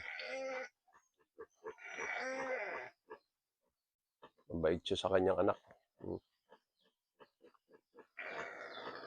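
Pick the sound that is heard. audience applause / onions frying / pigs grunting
pigs grunting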